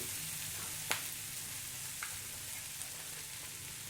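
Potatoes and capsicum fry in a pan with a steady, fairly quiet sizzle, and a few soft scrapes of a spoon stir them. No one speaks.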